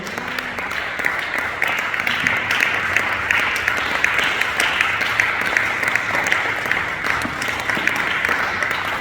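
Steady, loud applause from a church congregation at a Sunday worship service, many hands clapping continuously with faint voices beneath.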